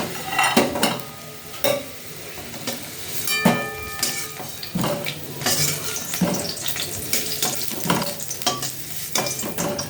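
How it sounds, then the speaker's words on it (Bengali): Potatoes sizzle in hot oil in a pan, with a steady fry hiss and repeated metallic scrapes and clanks from a spatula as they are stirred and lifted out, close and fairly loud. "এ দেখো আলুটা ভাজা হয়ে গেছে, এবার আলুটা তুলে নিই"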